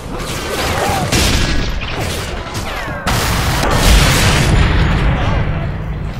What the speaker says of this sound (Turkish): Kamyonu patlar.